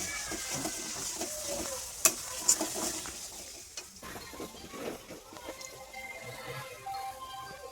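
Aloo dum, a potato curry, being stirred and fried in a pan, soft sizzling with scraping spatula strokes and a few sharp clinks, fairly quiet and close, no talk.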